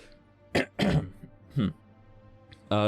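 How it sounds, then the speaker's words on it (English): A person clears their throat and coughs in a few short, close bursts separated by pauses, with no talking in between. "I got a cough."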